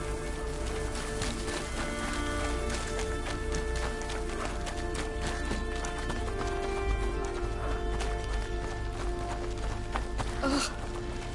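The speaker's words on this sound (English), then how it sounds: "Oh, the horse." Horse hooves clip-clop steadily in the video game A Plague Tale, a rhythmic run of hoofbeats with an occasional whinny, set over a sustained musical score without speech.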